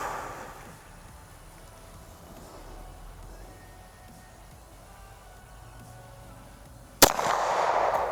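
Near the end, one sharp, loud crack from a 9mm CZ 75 Tactical pistol fired at a 50-yard target breaks a quiet outdoor range ambience, followed by a lingering echo.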